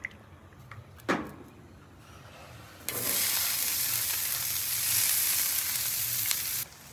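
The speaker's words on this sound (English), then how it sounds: "that's when I'm gonna add the peppers and onions just to pick up that flavor." Peppers and onions land on a hot flat top griddle greasy with Italian sausage and meatball drippings, starting a loud, steady close-up sizzle after a few quiet knocks and clicks.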